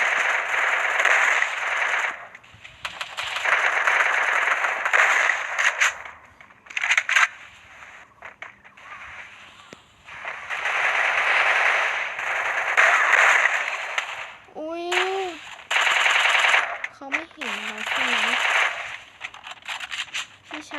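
Bursts of gunfire from the mobile battle game Free Fire, loud clustered volleys with short gaps between them and a few rising synthetic game effects near the end, with no talk.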